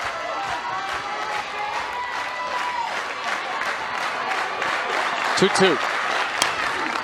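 A crowd at a Texas Tech versus Florida State NCAA women's softball game applauds and murmurs steadily throughout, with a commentator talking over the noise and a brief louder burst near the end.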